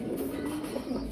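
Fancy pigeons in a breeding pair for sale coo steadily at close range, a low continuous warble of overlapping calls running through the whole moment without pause.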